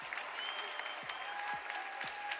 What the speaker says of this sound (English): we got a little bit of round of applause there